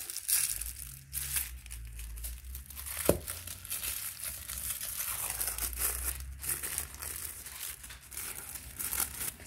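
Paper packaging is torn and crumpled open during a craft-supply unboxing, giving a continuous close crinkling and rustling with one sharper tear, fairly quiet and without talk.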